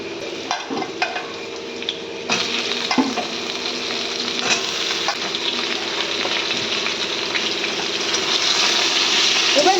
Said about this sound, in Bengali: ঝিঙেটাকেও আলুর সঙ্গে একটু ভেজে নেব